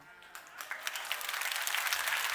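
Audience applause swells from scattered claps into steady, dense clapping over a couple of seconds, with no voices heard.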